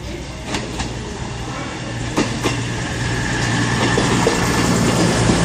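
A Super Voyager train runs through Exeter St David's station on the Great Western Main Line, a steady loud rumble of engine and rolling wheels building slowly, with a few sharp clicks and clanks near the start.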